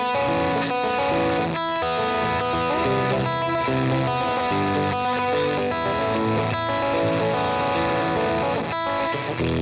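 Lo-fi reverb with the decay turned down adds a crackly, distorted wash over dense looping music, loud and continuous with short dropouts.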